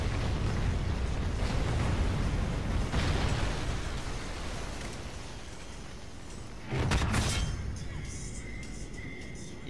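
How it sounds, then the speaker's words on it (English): A Kem Strike explosion in a Call of Duty match, a loud, dense roar of blasts and rumbling debris filling the whole stretch, with a fresh burst hitting near the end before the noise thins. "And I got the Kem Strike!"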